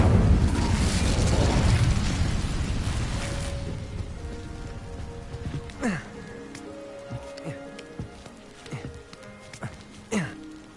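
An Incendio fire spell is cast in the Hogwarts Legacy video game with a loud roaring, crackling whoosh that fades over a few seconds. Sparse sharp game effects and clicks follow over a quiet background.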